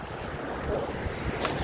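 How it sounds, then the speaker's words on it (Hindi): Strong outdoor wind rushes in a steady, low roar across the microphone, with faint gusty swells and no talking. "ये देखें इतनी हवा चल रही है"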